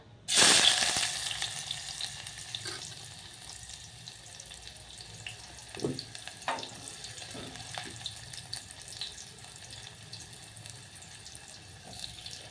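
Chopped onion drops into hot oil in a pan while chickpea ghugrya are cooked, bursting into a loud sizzle right away, then settling into a steady, fainter hiss with a few soft clinks.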